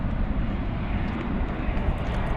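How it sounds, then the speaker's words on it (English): DHL Boeing 767 cargo jet at DFW Airport, a steady broadband engine rumble heard from a distance, continuous and fairly faint throughout, with no voices. "Flight 102 going to Cincinnati. That's a 767. It's a cargo flight, of course."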